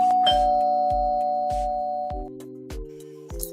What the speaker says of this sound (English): Where is my doorbell at?